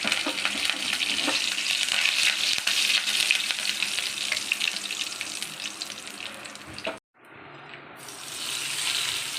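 Dry red chillies and curry leaves sizzling in hot oil for an onion chutney, a steady crackling fry that runs loud, cuts out briefly near the end, then resumes more softly.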